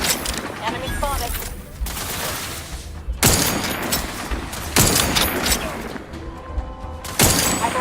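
Bursts of automatic gunfire and heavy booms in Outer Worlds 2 come in dense, loud volleys separated by short gaps, with game voices in between.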